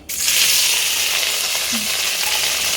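Chili-spiced food fries lightly in hot oil, a loud, bright sizzle that bursts up as the pieces go in and then holds steady and close, with a faint clink of utensil partway through.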